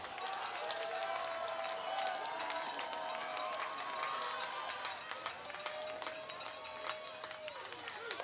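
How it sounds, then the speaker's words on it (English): At Historic Holman Stadium during a championship baseball game, a crowd sends up a broad swell of cheering and clapping with whistles, under an announcer's voice. "Crowd starting to come alive once again."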